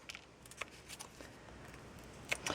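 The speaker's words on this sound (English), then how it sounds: "the next step is to go ahead and trim off this excess glue" Scissors snip away excess hot glue on a delicate doily rosette Christmas ornament, a few faint, quick cuts and light crinkles scattered across a quiet background.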